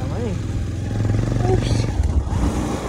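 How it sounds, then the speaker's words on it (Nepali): A motorbike bumps along a rough, broken mountain road, its low engine drone rattling and clattering beneath someone talking throughout. "फेरि यस्तो बाटोमा बाइकलाई कस्तो गाह्रो परेको"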